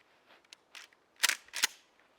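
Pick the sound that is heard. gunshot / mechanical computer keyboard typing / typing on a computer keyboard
gunshot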